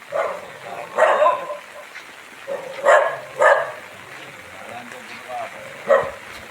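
A dog barks several times in separate bursts in a Konkan village hamlet, fairly close, with people talking in between.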